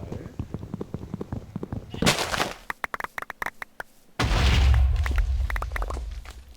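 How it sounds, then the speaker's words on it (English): Booming bursts of video game explosions in a Minecraft-style survival world, a loud blast around two seconds, a string of sharp cracks, then a heavy sustained rumble near the end. "I will find out what's causing those explosions."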